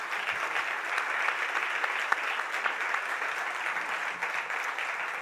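An audience at a startup awards event in Bengaluru welcomes the Chief Minister with steady, even applause, a continuous patter of many hands with no voices on top.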